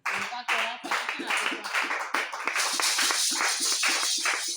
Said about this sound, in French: Une fois encore, tu vas applaudir pour le Seigneur.